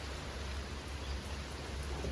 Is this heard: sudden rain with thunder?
yes